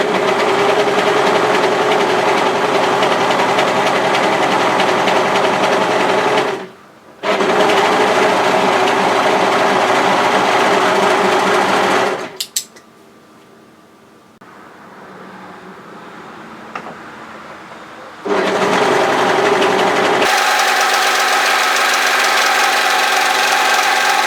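Sewing machine running in steady bursts as it stitches down to and across the hemline of bib overalls, loud and close, with two sustained runs, a brief pause, a quieter stretch of handling, then the motor whirring again.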